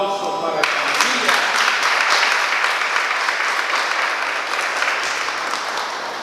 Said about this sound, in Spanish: Aplauso para la familia.